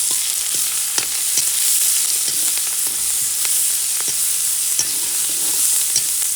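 Green chillies crackle in hot oil for a tadka: a steady bright sizzle punctuated by sharp, irregular pops and spits, close up and with no talking.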